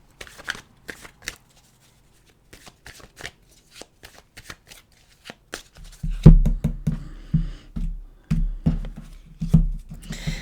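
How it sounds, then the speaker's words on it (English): Tarot cards are handled and shuffled by hand: scattered soft taps and flicks at first, then a steady run of brisk riffling shuffles, close and fairly quiet with no talking. "Okay, let's go to the cards."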